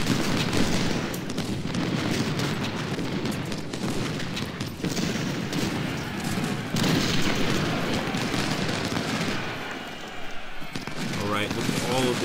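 Artillery and musket volleys from an American Civil War battle in a strategy game, a dense continuous roar of overlapping shots and booms under a voice commentating.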